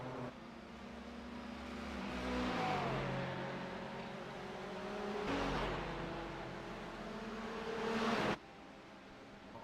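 A stiffly sprung Nissan race car in the iRacing sim revs and shifts through a racing lap, its engine droning loud and steady with rising and falling pitch and a sudden drop near the end.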